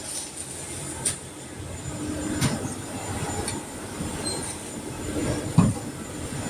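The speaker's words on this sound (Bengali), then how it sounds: "তো এখান থেকে সম্পূর্ণ ডিজিটাল প্রিন্ট হয়, টেক্সটাইল মেশিন আর কি।" A new digital textile printing machine runs in a Kalyanpur, Dhaka factory printing jerseys, giving a continuous mechanical rumble broken by periodic clunks and brief squeals.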